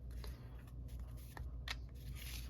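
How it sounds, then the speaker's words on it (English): A discard pile of Marvel Champions cards is shuffled by hand, giving soft riffling bursts and quiet flicks over low background hum. "So we have to shuffle our discard pile."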